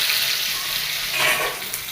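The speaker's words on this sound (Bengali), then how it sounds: "আর এই মাছগুলো আমি করে যাচ্ছে, যে ভাজা হয়ে এসছে।" Pabda fish sizzle and spit in hot oil in a pan, a steady crackling fry with a brief louder burst of sizzle midway.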